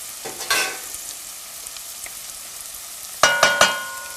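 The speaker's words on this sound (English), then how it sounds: "So we're going to add some garlic now to our sauce." Smashed garlic cloves sizzling in an olive oil and onion sauce, a soft continuous hiss with a few sharp utensil clatters against the pan, close and without talk.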